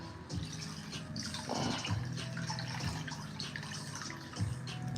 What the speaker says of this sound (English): let me show you how much water you got to put in here